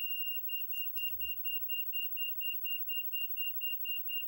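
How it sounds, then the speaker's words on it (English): A rapid, steady series of high electronic warning beeps repeats evenly from the dashboard of a vehicle with an 8.1-litre 8100 Vortec engine and a low oil pressure light, with a brief muffled thump early on and no talking. "Get done beeping."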